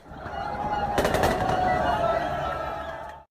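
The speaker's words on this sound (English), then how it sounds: "thousands of people gathered under the Gateway Arch watching the fireworks high above" Fireworks bursting above a huge crowd under the Gateway Arch, a rapid crackling volley of pops over a sustained roar of crowd noise that swells and then cuts off.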